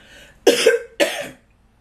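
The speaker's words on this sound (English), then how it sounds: "I can't stop coughing" Two sharp, harsh coughs from a woman close to the mic, a short pause between them, then quiet.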